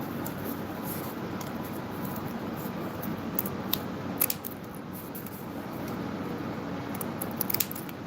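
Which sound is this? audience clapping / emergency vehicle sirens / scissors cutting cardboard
scissors cutting cardboard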